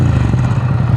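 A Ducati Scrambler Urban Enduro with a Termignoni exhaust fires up and settles into a steady, loud, close engine drone with a deep low rumble and no talking.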